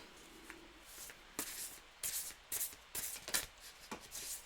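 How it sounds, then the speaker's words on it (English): Tarot cards shuffled by hand, loosely and unevenly, giving a series of soft, close papery riffles and brushing bursts separated by short pauses, fairly quiet with no talking over them. "Okay, I'll shuffle now."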